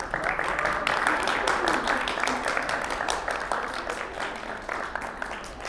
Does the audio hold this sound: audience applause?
yes